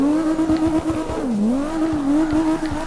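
A 900 HP BMW E34 M5 drifts in the CarX Drift Racing Online game, its engine holding a loud steady drone that dips and swells as the car swings through a slide, with faint tire squeal throughout.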